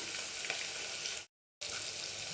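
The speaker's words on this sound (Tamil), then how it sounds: "வெங்காயம் நல்லா வதங்கினதுக்கப்புறம் தக்காளி சேர்த்துக்கலாம்" Onions and tomatoes sauté in a pan for crab curry with a steady, moderate sizzle, broken by a brief gap of silence before the frying hiss resumes.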